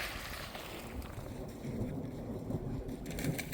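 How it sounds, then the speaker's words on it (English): Low, rumbling thunder rolls on steadily under a wash of rain, swelling a little toward the end with no voices present. "You can hear the thunder, the roar of the thunder."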